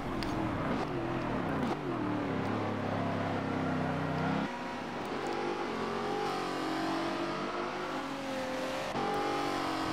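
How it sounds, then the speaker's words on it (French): An Aston Martin V8 Vantage V600 races around Mount Panorama in Forza Motorsport 7. The V8 revs hard and loud through rising and falling gear changes, close and continuous. "J'ai été surpris d'ailleurs de la puissance moteur de ce véhicule."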